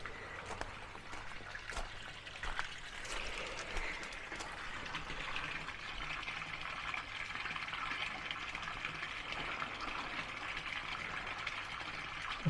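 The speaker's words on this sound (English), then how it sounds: "nice little sound of water running here" A small fountain near cabins at Cheddar Gorge trickles steadily, a quiet, even stream of running water heard up close with no talking over it.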